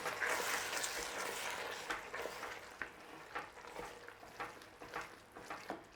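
Ginger powder being stirred through a simmering tomato and apple relish made from canned chopped tomatoes, with soft bubbling sizzle and repeated scraping stir strokes close by, quiet and without talk.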